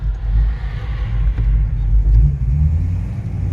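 A 1976 Holden LX Torana with a 308 V8 accelerates with a deep, lumpy rumble that swells and surges, close and strong throughout. No one talks.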